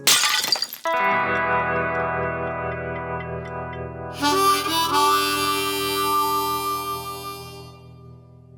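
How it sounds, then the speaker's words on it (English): Artwork smashing to pieces on the floor: a sharp, loud glass-like shatter at the start, followed by long ringing, tinkling tones that swell again midway and slowly fade. "sending it tumbling to the floor, where it smashed into tiny pieces"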